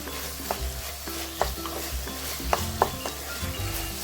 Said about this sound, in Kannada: 3 ಟೊಮೊಟೊ ಸಣ್ಣಗೆ ಹೆಚ್ಕೊಂಡಿರೋದು. ಚೆನ್ನಾಗಿ ಫ್ರೈ ಆಗಲಿ.